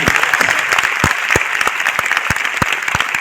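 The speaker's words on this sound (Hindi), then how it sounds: "एक बार जोरदार तालियां के लिए।" Energetic applause from a crowd at a success celebration event in Delhi, dense and continuous claps ringing out loudly from start to finish.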